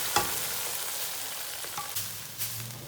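Hot tadka tempering for chicken haleem sizzles and crackles steadily in the pan, a close continuous frying hiss with a few sharper pops, and no talking over it.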